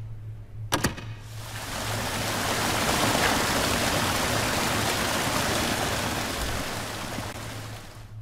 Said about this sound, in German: Und Rebecca darf Wasser einlassen.